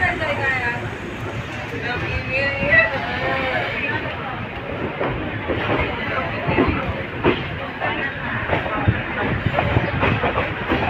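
The Auroville Express passenger train running on rails between Chennai and Pondicherry gives a steady rumble with rhythmic clickety-clack and hiss while a voice talks over it.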